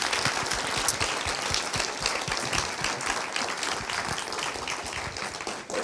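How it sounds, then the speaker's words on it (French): Enthusiastic audience applause for presentation candidates, close, loud and dense clapping with distinct individual hand claps, continuing steadily before tapering slightly at the end. "une grande série d'applaudissements pour nos candidats"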